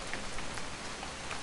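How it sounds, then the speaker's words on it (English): Steady rain patters and hisses on surfaces in the video game What Remains of Edith Finch, a dense, even downpour with no talk over it. "It's gonna rain the whole weekend"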